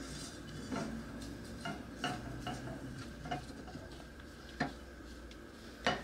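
A spatula stirs thickening homemade pudding in a pot, giving soft steady scraping with a few sharper clinks against the pan, close and fairly quiet, no talking.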